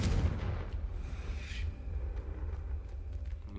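A Confringo blasting spell in Hogwarts Legacy, a heavy, booming explosion at the start that rumbles and fades away over a few seconds.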